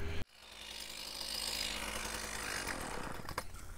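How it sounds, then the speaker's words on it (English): A small gas-motor ice core drill bores into thick rink ice, a steady loud mechanical drone with a rough whirring edge that starts abruptly after a short pause and runs continuously. "This is our ice core machine, operated by a little gas motor."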